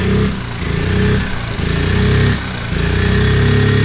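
A Honda Z50 minibike engine running after a kick-start, a loud, close, buzzing single-cylinder drone that rises and dips as the throttle pulses.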